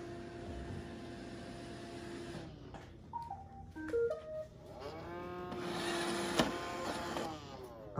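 A Roomba robot vacuum runs with a steady motor whir, then sputters through a few bumps and shifting tones before settling into a fuller hum, with no talk.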